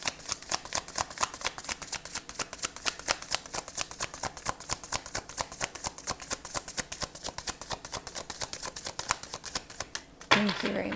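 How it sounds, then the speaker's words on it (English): An oracle card deck being shuffled with rapid, steady riffling flicks for about ten seconds, crisp and close, ending in a brief rustle as the deck settles. "Do one more shuffle."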